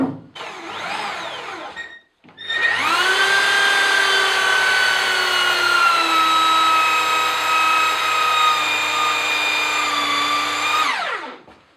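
Power drill driving a long bit deep through a wooden rail of a Benchcrafted Roubo workbench base, a loud sustained whine that starts, briefly stops, then runs steadily for about nine seconds before winding down.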